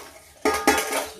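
A covered pot of dal shaken on the stove: a quiet start, then two bursts of rattling lid and metal against metal, close and loud, with no speech.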